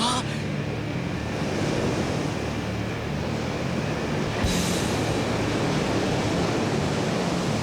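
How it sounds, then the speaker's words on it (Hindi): Strong waves surge in water in an animated episode, a steady loud wash of surf that fills the clip throughout, with a brief splash-like swell midway. "लहरें काफी तेज हैं।"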